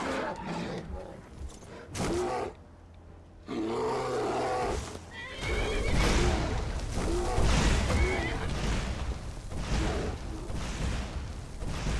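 A horse neighs and whinnies amid chaotic Skyrim game sounds, with heavy crashes and thuds and a voice talking over parts of it.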